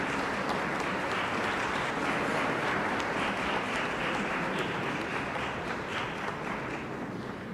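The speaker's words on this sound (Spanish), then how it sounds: "Fuerte aplauso para la nueva directiva del Parlamento Centroamericano" Applause fills a formal chamber as the new board of the Central American Parliament is welcomed at a solemn swearing-in session, a steady, dense patter heard from some distance.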